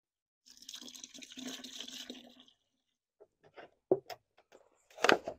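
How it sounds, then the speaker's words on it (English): Water is poured into a bucket of concrete base coat mix, a steady splashing pour for about two seconds, then a few scattered knocks and scrapes, recorded up close with no talking. "So I'm gonna add a little more water."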